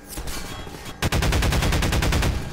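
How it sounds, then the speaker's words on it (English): Rapid automatic gunfire aimed at Combine soldiers in Half-Life 2, a short burst followed by a sustained, loud stream of evenly spaced shots against game noise. "Let me just shoot them there"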